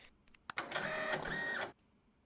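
Printer in the video game Parcel Simulator running for about a second, giving a close, mechanical whirring print pass with a few short clicks before it and silence after.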